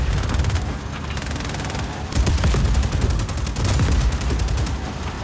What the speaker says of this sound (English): So the prize fighter tank I think has a machine gun.